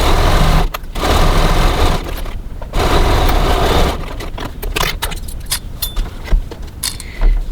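A home sewing machine stitching a cross-body bag seam at short stitch length, running in bursts of rapid mechanical whirring broken by brief pauses and clicks, close and loud.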